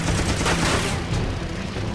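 Machine gun fire from a Grumman Wildcat fighter in a Guadalcanal dogfight against a Pete floatplane, a dense rattling burst mixed with engine roar, loud and continuous, fading slightly at the end.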